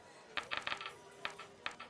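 Craps dice tumble and clatter across a casino table in quick bursts of light clicks and taps over a low room murmur.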